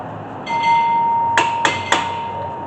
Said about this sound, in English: Give a few taps with a hammer just to tighten it up.